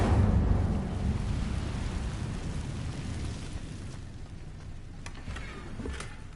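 A fire spell cast in Hogwarts Legacy opens with a loud, low whooshing roar, then trails into a dull, rumbling crackle that fades across several seconds.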